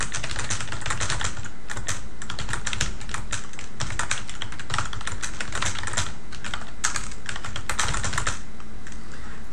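Steady, rapid typing on a computer keyboard, with dense close clicks running continuously for several seconds at an even, fairly loud level and no voices.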